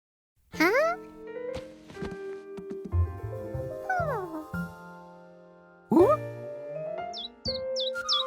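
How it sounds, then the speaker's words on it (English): Cartoon birds chirp and tweet cheerfully in a morning scene, bright sliding calls and whistles in bursts over light background music. "he woke up to the sound of happy birds"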